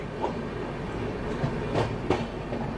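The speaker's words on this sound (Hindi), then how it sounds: "WAP-7 लोकोमोटिव के साथ थी ये।" A passenger train hauled by a WAP-7 electric locomotive rumbles past with steady rolling noise and a few faint rail clicks.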